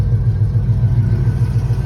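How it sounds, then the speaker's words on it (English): A Chevrolet Caprice engine fitted with a high-output alternator runs steadily at idle, giving a continuous close, loud low rumble with a faint whine that stays even throughout. "Kind of sound like I got a little miniature turbo."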